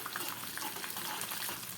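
Sesame seeds and curry leaves sputter in hot oil during tempering for steamed farali dhokla, a dense, steady crackling sizzle filling the pan closely with no pauses.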